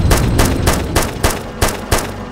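Tank firing in Arma 2 Wasteland: a loud, close burst of about seven evenly spaced heavy gunshots in quick succession, each with a sharp broadband crack, with no voices.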